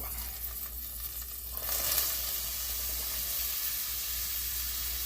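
Vegetables hit hot oil in a pan, a quiet hiss suddenly swelling into a loud, steady crackling sizzle that continues close-up with no talking.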